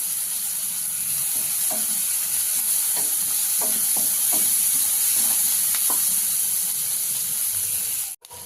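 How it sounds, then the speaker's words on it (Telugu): Spinach frying with curry leaves in a pan, a steady loud sizzle and hiss throughout, with soft scraping strokes of stirring scattered over the middle, close and without speech. "మధ్య మధ్యలో మనం కలుపుకుంటూ ఇలా ఫ్రై చేసుకోవాలి"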